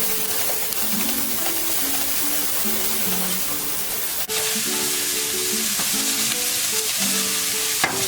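A little garlic sizzles steadily in a hot pan as the start of shrimp fried rice, a loud continuous frying hiss with a brief stir or clatter midway and a faint melodic tone running underneath.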